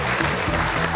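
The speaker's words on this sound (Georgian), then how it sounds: "აპლოდისმენტები." A studio audience at a comedy game show claps in a dense, sustained burst of applause that stays loud and even throughout.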